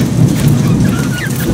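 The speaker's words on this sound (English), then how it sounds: "Rain's starting to pick up." Heavy rain pours steadily during a thunderstorm, with a low rumble of thunder underneath, loud and continuous throughout with no voices.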